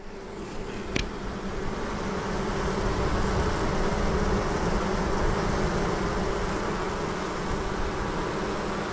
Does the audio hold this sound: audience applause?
no